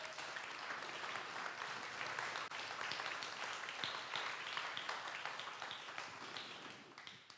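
A congregation at an evening church service applauds steadily, many hands clapping in a dense, even wash, fairly quiet and distant, with no talk over it.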